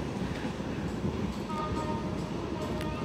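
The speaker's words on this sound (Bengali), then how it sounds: "23-13 লোকোমোটিভ নিয়ে শ্যামপুর প্রবেশ করছে ঢাকাগামী নারায়ণগঞ্জ কমিউটার" A Dhaka-bound Narayanganj commuter train hauled by locomotive 23-13 rumbles steadily into Shyampur station, a loud continuous rolling roar with faint squeals and no talking.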